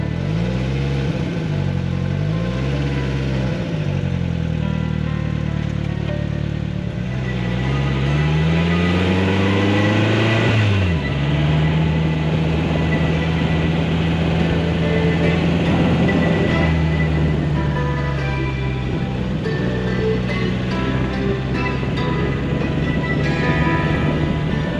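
A Polaris Slingshot open-cockpit three-wheeler driving near Clearwater Beach, its engine note rising and falling through several revs and gear changes, then settling into a steady cruising drone under constant road and wind noise.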